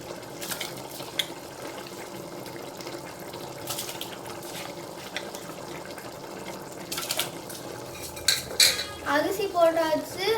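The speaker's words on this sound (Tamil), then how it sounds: "இப்போ அரிசி போடலாம்." Seeraga samba rice goes into a pot of boiling water for chicken biryani, with steady clatter of a metal pot and utensils and a burst of splashing and bubbling toward the end, no voices.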